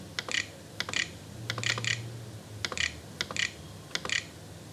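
Keys clatter on a computer keyboard as a search term is typed, a quick series of light, close taps in small bursts with short pauses between them.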